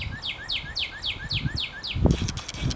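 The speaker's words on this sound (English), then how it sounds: "Tweety bird nearby too." A small bird chirps nearby outdoors in a steady, repeated series of bright rising-falling notes, close and clear, ending in a few rustling thumps and clicks while low background noise continues underneath.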